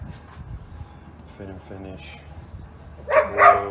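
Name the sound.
dogs barking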